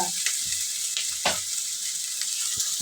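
Onions fry in a pan for tomato rice with a steady, bright sizzle, broken by a few soft stirring scrapes.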